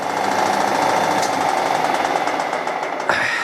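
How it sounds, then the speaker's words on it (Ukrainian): A Reinecker gear hobbing machine under restoration cuts a four-start rectangular thread on a long part, giving a loud, steady mechanical chatter with a faint whine that shifts near the end, with no talking. "Тобто станок ріже 4 нитки."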